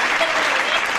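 A brief, steady round of applause from a group of children, with quick, dense claps close by.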